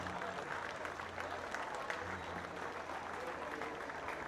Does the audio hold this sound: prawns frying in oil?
no